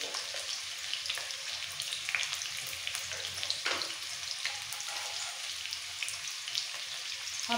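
Potatoes frying in oil in a pan for a chicken curry, a dense continuous crackling sizzle with scattered sharp pops and spits, close and steady throughout with no voices.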